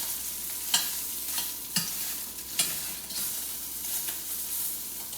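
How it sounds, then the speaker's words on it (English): Food searing in a hot pan gives a soft, constant sizzle, broken by a few brief sharp clicks as pieces are placed or moved, with no voices. "we are going to sear these in a clockwise position"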